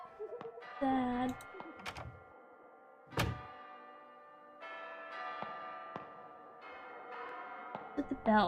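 Bells toll in the horror game Detention, a few sharp struck strikes ringing out with long sustained tones that hang and decay between them, alongside soft thumps and clicks.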